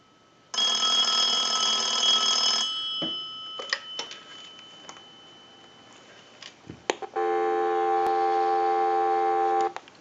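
A ringing burst, then several clicks and taps, then a steady dial tone from a line analyzer on a Radio Shack Trim Line model 43-593 telephone under repair hums evenly for a few seconds before cutting off.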